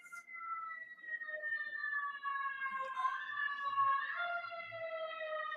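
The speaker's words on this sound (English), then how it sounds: "You guys hear the siren or no?" A distant emergency siren wails, rising and falling in pitch, faint and alone.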